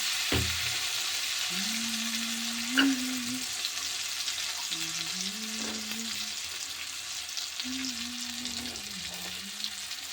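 Peas go into potatoes frying in a pan, giving a steady, close sizzle with a sharp clatter at the start and stirring scrapes through the rest.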